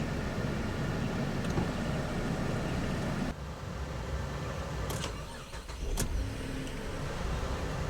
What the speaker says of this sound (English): You hear it cranks kind of sluggish.